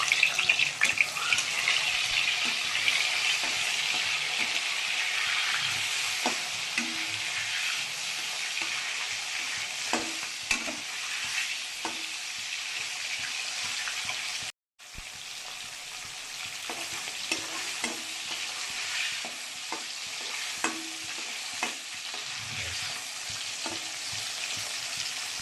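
Fish frying in hot oil in a pan for a homemade Odia fish curry, a steady close hiss and crackle of sizzling with occasional scrapes of a spatula, no talk.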